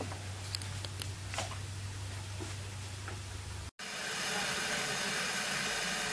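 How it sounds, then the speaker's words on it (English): Water in a Jetboil pot begins to boil over an alcohol stove. A faint, steady hiss with light crackles shifts partway through into a louder, broad rushing sound. "You can actually hear the water starting to boil."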